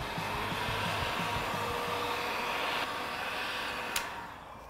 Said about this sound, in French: Et on va pouvoir chauffer à nouveau notre portée avec le décapeur thermique.